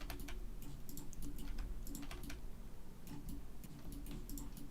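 Rapid computer keyboard presses and mouse clicks while modeling in Blender, a steady run of sharp, close taps over a low hum.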